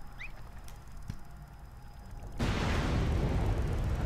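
A massive explosion in the video game Ever Oasis cuts in suddenly partway through, a loud sustained roaring burst that fills everything after a quieter stretch, with no talk over it.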